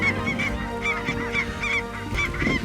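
A large mixed flock of snow, blue, Canada and specklebelly geese honks and calls continuously in Saskatchewan, a dense overlapping chorus from many birds.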